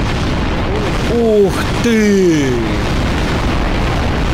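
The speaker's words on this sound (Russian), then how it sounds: "сейчас будет немножечко поменьше взрыв, но он их уничтожит" Explosions go off in Garry's Mod, a short boom with sweeping tonal effects, and a man exclaims over it.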